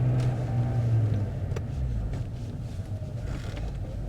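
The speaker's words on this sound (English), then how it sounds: "Just keep accelerating, keep accelerating." A car accelerates during a driving test, its engine a steady low rumble that swells slightly, heard close from inside the cabin with no talking.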